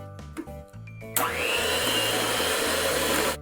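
An electric mixer whirs loudly as it beats cupcake batter of sour cream and pickle juice, starting after a few brief clicks and then running as a steady, close, continuous drone with no talk.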